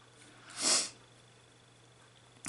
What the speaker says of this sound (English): Oh my goodness, sorry about sniffing.